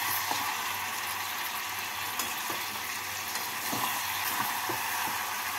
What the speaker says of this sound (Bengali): চিনি দিয়ে নাড়াচাড়া করে নেব।